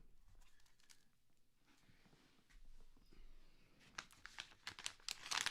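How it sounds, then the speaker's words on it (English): A Grand Salami baseball card pack wrapper is crinkled and torn open close by, quiet rustling at first building to louder, sharp crackling bursts toward the end, with no talking. "we're going to open up one of our packs"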